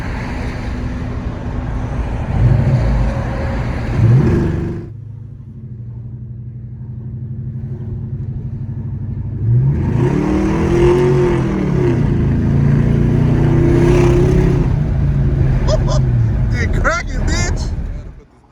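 A 1995 Chevrolet Caprice with a 5.3 LS engine swap rumbles loudly up close, revving in two long surges separated by a quieter idle, with some sharp crackle near the end.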